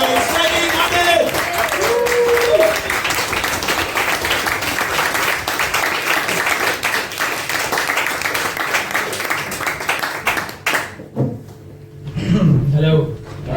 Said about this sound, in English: start clapping and cheering